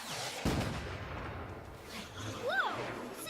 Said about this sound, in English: Since when did we add fireworks to the show?